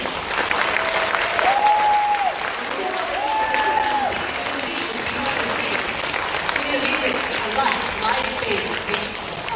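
An audience applauds six traditional musicians in a steady, full round of clapping, with a few voices and short whistles rising over it.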